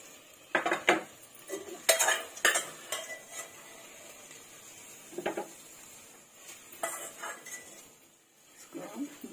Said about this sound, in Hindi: इसको हम बाउल में निकालेंगे।